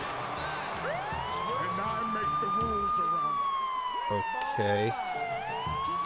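A wailing police-style siren from Roman Reigns' wrestling entrance music sweeps up and slowly glides down over a pulsing beat, fairly loud, with a voice briefly talking over it.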